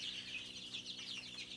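Sixteen-day-old native-type chicks in a brooding room cheep and cluck in a continuous high chatter, soft and steady, with no voices over them.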